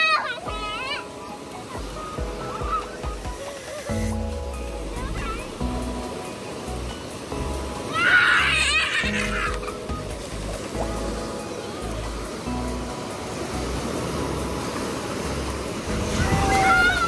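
Sea waves washing onto a beach at Chao Lao, Thailand, a continuous rolling surf with gusts of wind, heard under family chatter and voices calling out nearby.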